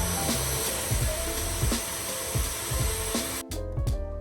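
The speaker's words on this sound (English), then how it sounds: "I popped my vacuum into the hole and gave it a test" A household vacuum cleaner pushed into a freshly bored hole in wood, running steadily as a test with a constant airy roar, loud and close, then cutting off abruptly near the end.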